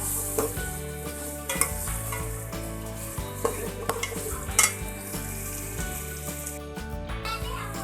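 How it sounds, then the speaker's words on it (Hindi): Onions fry and are stirred in a pan for a Punjabi-style potato, pea and chicken curry, with a steady soft sizzle and repeated scraping, clanking strokes of a utensil against the pan. "इसको भूनेंगे, लाइट ब्राउन तक पकाएंगे। प्याज का भी हल्का गोल्डन ब्राउन होने देंगे।"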